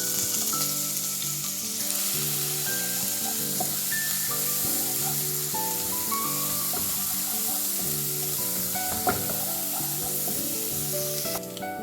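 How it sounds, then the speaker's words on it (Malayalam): Crushed ginger and garlic sizzle and crackle steadily in hot oil in a pan, a loud, close, continuous frying hiss with occasional stirring and clinks, and no voices. "ഇനി നമുക്ക് അതിലേക്ക് ഇഞ്ചിയും വെളുത്തുള്ളിയും ചതച്ചത് ഇട്ട് കൊടുക്കാം"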